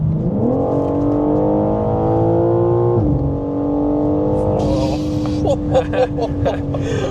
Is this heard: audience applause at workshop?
no